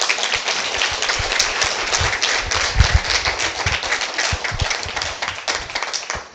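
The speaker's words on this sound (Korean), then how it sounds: "우리 다시 한번 환영의 박수 해주시기 바랍니다." A church congregation claps in welcome during a mission vision school gathering, a dense steady patter of many hands running the full length, fairly close and even in level.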